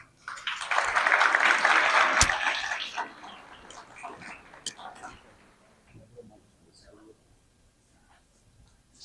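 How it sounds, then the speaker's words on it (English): Audience at a home design awards evening applauds a guest, a loud burst of clapping that swells in the first few seconds and then fades into scattered claps and murmuring. "Please give Michael a big round of applause."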